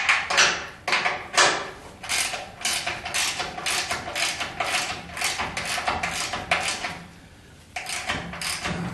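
A ratchet wrench clicks through repeated strokes, tightening stiff self-locking nuts on the drag link and tie rods of a 1976 Corvette; close, rhythmic metallic ratcheting bursts, briefly pausing near the end, with no voices.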